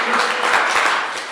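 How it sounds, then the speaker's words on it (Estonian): A brief burst of dense audience applause at a community club event, loud and continuous throughout. "teeme nüüd veel aplausi"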